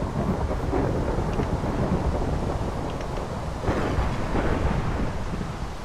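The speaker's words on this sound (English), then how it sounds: "It's like constant thunder." Constant thunder rumbles through a Minecraft thunderstorm, a loud, continuous low roar with rain hiss and swelling rolls, no voices over it.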